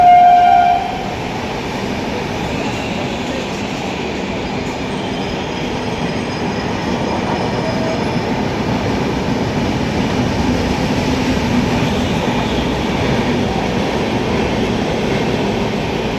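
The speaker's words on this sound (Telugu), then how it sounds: "ఇంకొక ట్రైన్ అటు నుంచి వెళ్తుంది, ఇక్కడ ఆగట్లే అది." A Rajdhani Express passing through Charlapalli railway station without stopping, opening with a brief horn blast and then a long, loud, steady roar and rattle of wheels and cars rolling past, with no talk.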